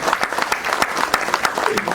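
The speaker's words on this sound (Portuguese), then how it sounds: "queria que vocês recebessem uma salva de palmas, Nicolas Ferreira" A dense burst of audience applause at a Brazilian conservative political gathering, many hands clapping steadily and close, with a slight rhythmic swell throughout.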